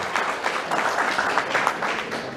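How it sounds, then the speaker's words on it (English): Steady audience applause at a pancake breakfast fundraiser, a dense, even patter of many hands clapping throughout, moderately close with no talk over it. "Can we get some applause for these folks?"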